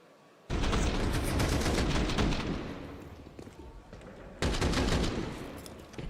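Loud sustained gunfire from a Counter-Strike match, two heavy volleys of rapid shots separated by a brief lull, with no talk over it.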